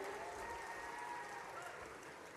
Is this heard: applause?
yes